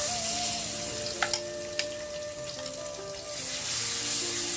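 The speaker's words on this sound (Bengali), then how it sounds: "এখন মশলাটা আমি ভালো করে কষিয়ে নিব।" Goat meat, about 1.5 kg, frying with blender-ground spices in a pan, giving a steady close sizzle with a few sharp pops and the clink of stirring, and no voices.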